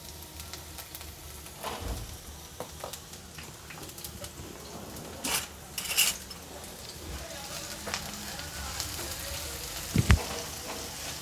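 Green garlic and a spoonful of dried garlic chutney fry in hot oil in a pan, a steady close sizzle with scattered clicks and a couple of louder clatters.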